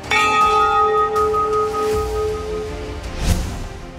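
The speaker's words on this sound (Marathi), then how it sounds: "शाळेची घंटा सकाळी 8ला वाजणार" A school bell is struck once and rings out alone, its clear metallic tone hanging and slowly fading over several seconds.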